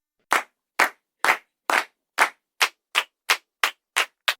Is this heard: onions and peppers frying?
no